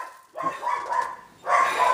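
Dogs barking indoors in repeated bursts, fairly close and loud, with short gaps between the outbursts.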